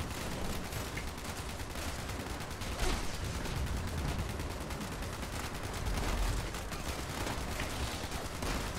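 Continuous dense gunfire from the video game Fallout 76, a sustained barrage of rapid overlapping shots with bursts swelling around the third and sixth seconds, loud and steady throughout with no talk.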